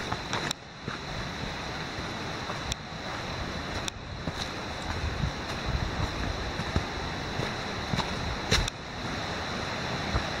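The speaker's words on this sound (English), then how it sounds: "you can hear the Peabody River" The Peabody River rushes beside the Great Gulf Trail at sunset, a steady continuous roar of flowing water with faint wind and occasional brief knocks and footstep clicks, no talking.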